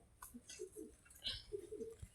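Pigeons coo softly a few times in short low-pitched phrases, faint and somewhat close, with light chirps and ambient noise between the calls.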